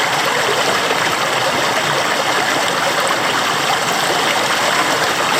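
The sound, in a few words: waterfall in northeast Tasmanian rainforest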